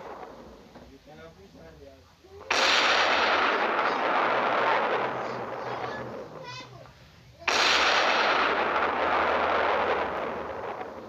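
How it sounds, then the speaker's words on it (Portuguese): Minecraft gunfire erupts in two long, loud booming volleys with a roaring rumble that slowly fades, separated by a short lull, under brief talk. "Agora eu tiro."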